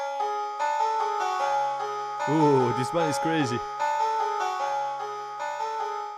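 A bright piano preset in FL Studio plays a melody with sustained harmonic notes, briefly broken by a lively voice exclaiming over it.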